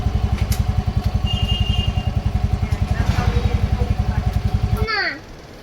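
A scooter engine runs while being ridden, a steady close throbbing putter that cuts out near the end.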